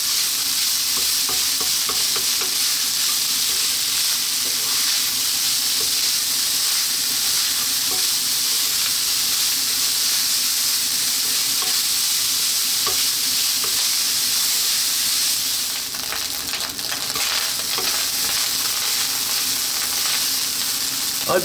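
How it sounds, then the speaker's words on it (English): Rice frying hard in a hot pan over high heat while being stirred constantly, a dense steady sizzle with occasional scraping clicks, close and loud throughout with no talking. "You really need to get that sound, really high heat. That's the rice actually frying."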